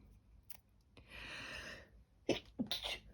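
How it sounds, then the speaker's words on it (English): A single close sneeze with a sharp intake of breath, followed by a couple of quieter breathy sounds. "I'm going to sneeze."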